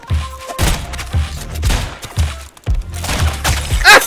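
Rapid bursts of video game gunfire crackle in quick succession, with repeated thumping shots and close, loud impacts spread across the whole stretch.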